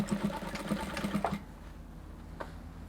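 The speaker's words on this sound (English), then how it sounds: "so you're going to sew with the 1/2 inch allowance" A sewing machine stitches the seam of a bubu dress in a quick rhythmic whir at close range. It runs for about a second and a half, then stops, leaving quiet with one faint click.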